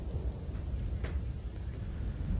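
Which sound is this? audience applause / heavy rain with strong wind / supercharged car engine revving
heavy rain with strong wind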